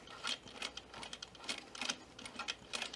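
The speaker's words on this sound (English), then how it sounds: "I'm going to use my hand wheel, and I'm just going to do stitch by stitch using my hand wheel going toward me" Hand-turned domestic sewing machine stitching through thick, uneven fleece, with close, steady clicking and ratcheting mechanism sounds repeating stitch by stitch.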